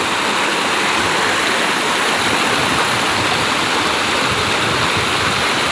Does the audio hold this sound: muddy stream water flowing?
yes